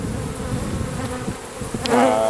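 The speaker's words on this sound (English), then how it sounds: "Now I got to measure half a cup of bees" Bees buzz in a dense, close hum throughout, with one bee droning louder and higher near the end.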